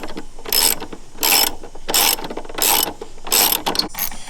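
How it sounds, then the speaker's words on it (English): A ratchet with a 13mm socket clicks rapidly in five or six loud, evenly spaced bursts as it loosens the strut brace bolts on a Volvo S60R, with no talking. "So you want to grab a 13mm socket again"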